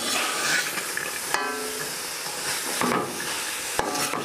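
Chopped carrots, beans, peas and cauliflower sizzle steadily in a pan for vegetable pulao, with occasional scraping stirs and clinks of a spatula, close and moderately quiet.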